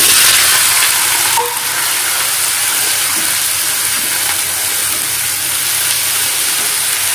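Potatoes frying in a pan give a loud, steady hiss and sizzle throughout, close up with no speech over it.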